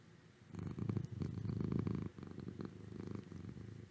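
A cat purrs close up in soft, rhythmic rumbling waves, quiet and intimate, with brief breaks between breaths.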